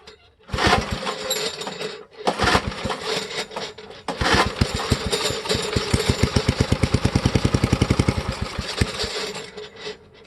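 A vintage Parker thatcher engine sputters to life in bursts, stalling briefly between, then settles into a rapid, loud, even putt-putt idle close by.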